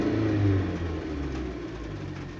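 A Jeep engine easing off after the throttle is released, a steady mid-pitched drone gradually falling in level as the car slows, heard from inside with no talking.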